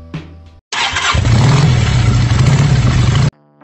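KYMCO Dollar 150 fuel-injected utility scooter fired by electric start: a brief whir, then the engine catches and runs at a loud, steady idle for a few seconds before cutting off.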